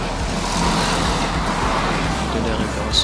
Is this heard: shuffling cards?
no